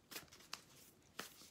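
Tarot cards being shuffled produce a few soft, quick riffling bursts, faint and spaced apart over a quiet background.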